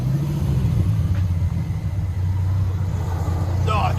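A 1994 Dodge Viper with an 8.0L V10 and true dual Flowmaster Flow FX exhaust idles close by with a deep, steady, throbbing rumble, while people talk faintly in the background.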